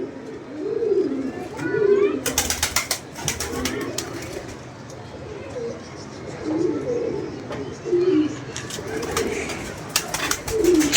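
Pigeons coo in repeated soft, low throaty phrases close by, several birds overlapping in loose rhythm, while people talk nearby and occasional clatter and wing flutters break in.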